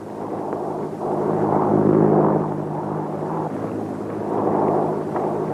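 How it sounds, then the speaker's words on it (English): A propeller plane taking off in a 1935 film, a droning engine roar that swells and fades slightly over a few seconds, mid-level and without voices. "Somebody's stealing the plane."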